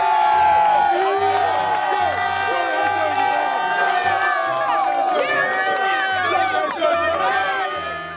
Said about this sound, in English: With all the screaming fans running around